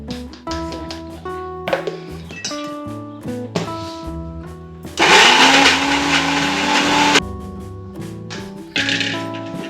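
A mixer grinder whirs in short pulses as it grinds ginger and garlic into paste. Its motor bursts alternate with brief pauses, and one longer, louder run fills the middle.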